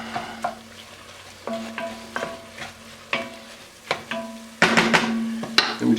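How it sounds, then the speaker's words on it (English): Spoon scraping and stirring in a hot pan as ranch seasonings are worked into a stew, with repeated scrapes and knocks over a steady sizzle, growing louder and busier toward the end. "Stir that in there"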